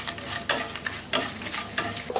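Whole spices fry in hot oil: cumin, cinnamon, black pepper and cloves. They give a close sizzle broken by a few sharp bursts of crackling as they are stirred in the pan, and no voice is heard.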